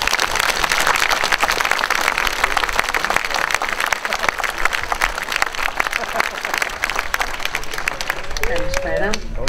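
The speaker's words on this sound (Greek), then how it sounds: "όλοι μαζί να χειροκροτήσουμε όλους αυτούς τους αφανείς ήρωες που δούλεψαν σε αυτό το μνημείο" A large outdoor audience applauds steadily at the inauguration of the renovated ancient theatre on Milos. The clapping is dense and sustained, and a voice speaks briefly near the end as it dies down.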